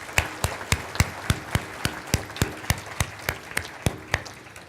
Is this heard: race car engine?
no